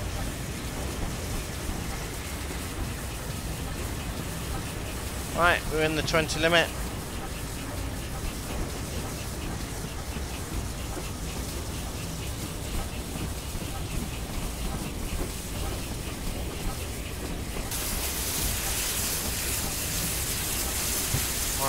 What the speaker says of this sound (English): No, it's starting to rain again.